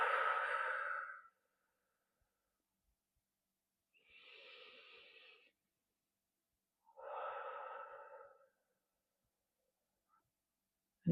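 Three slow, deliberate breaths, each long exhale separated by seconds of quiet, close and soft in a calm meditation setting.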